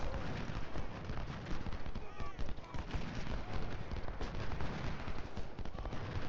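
Artillery fire in the Ultimate General Civil War video game forms a dense, continuous battle din of rumbling, crackling shots, fairly quiet and unbroken across the whole stretch.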